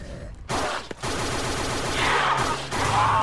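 Powerful gun firing in the Roblox zombie game Project Lazarus, a dense rapid fusillade of shots that runs nearly unbroken and loud with only brief gaps.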